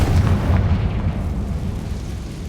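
Confringo fire spell blast in Hogwarts Legacy, a loud, deep booming explosion right at the start that rumbles and slowly fades, with no talk.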